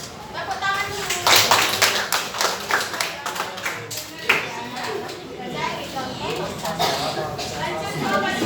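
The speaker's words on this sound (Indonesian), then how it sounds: "Tepuk tangan dulu." A school class claps together, a dense burst of hand claps that carries on under children and adults talking over it.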